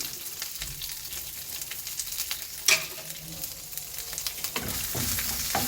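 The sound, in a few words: frying curry leaves, black pepper and urad dal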